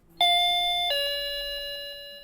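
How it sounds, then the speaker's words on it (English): A doorbell rings two clear tones, ding then dong, close and loud, with the second note ringing out and fading slowly. "One day, the doorbell rang,"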